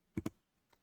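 Typing on a computer keyboard while entering a Linux install command: two quick close keystrokes followed by a fainter third, crisp and near, with no talk.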